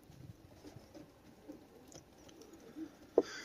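Racing pigeons, breeding birds kept in a loft, pecking and shuffling with soft, irregular taps over quiet room noise, faint throughout with one sharper tap near the end.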